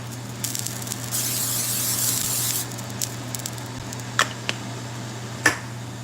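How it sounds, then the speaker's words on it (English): Olive oil sprays onto filet mignon in a short hissing burst near the start, followed by a few faint clicks and taps over a steady background hum, with no talking. "I sprayed my olive oil."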